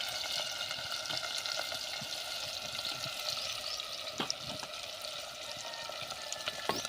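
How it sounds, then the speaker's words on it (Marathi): Onion and garlic cloves fry in very hot oil tempered with mustard seeds, giving a steady, close crackling sizzle with a few sharper pops near the end and no voices. "तर चांगलं आपल्याला परतून घ्यायचं आहे."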